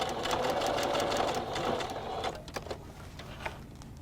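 A sewing machine stitches fabric for a PPE mask, running in a fast, steady rattling burst for about two seconds, then slowing to a few separate taps and clicks, close and fairly quiet.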